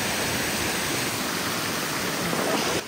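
Mountain waterfall roaring steadily close by, a dense broadband rush of falling water with no breaks and no voices.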